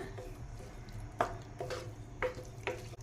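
Quiet scraping of a spoon through thick soya chunk and pea gravy in a pan, a few soft strokes at an uneven pace over a low steady background hum.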